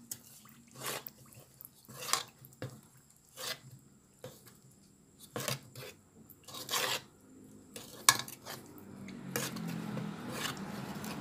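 A dessert mixture with water just added is stirred slowly in a bowl, giving repeated scraping and clinking utensil strokes in uneven bursts, some louder than others, with quiet gaps between.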